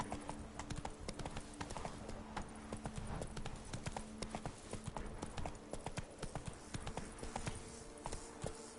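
Hoofbeats of Roach, a horse in the video game Witcher 3: Blood and Wine, galloping in a steady, close clip-clop rhythm, with a quiet hum of game music underneath.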